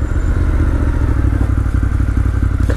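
A 2018 Ducati Monster 1200S with an aftermarket SC Project or Termignoni exhaust idling close by, a deep, loud, steady thumping rumble with a lumpy beat.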